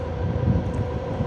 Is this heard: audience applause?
no